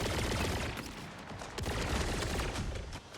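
Rapid gunfire from a weapon in Borderlands 4, a dense continuous fusillade of loud, closely spaced shots filling the whole stretch with no talk.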